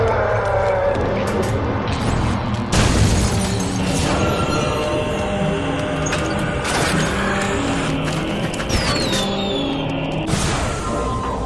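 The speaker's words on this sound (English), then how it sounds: "Fireworks! We could use these to chase away the darkness," Fireworks in the game Shadows of the Damned burst in loud, repeated booms and crackles over steady game music and mechanical effects, with sharp hits every couple of seconds.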